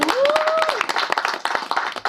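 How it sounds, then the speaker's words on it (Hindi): Audience clapping for the Nachega India dance show team at a promo launch event, a dense run of claps filling the clip, with a voice and a rising whistle-like tone in the first half. "सो नाचेगा इंडिया टीम के लिए तालियां हो जाएं यार"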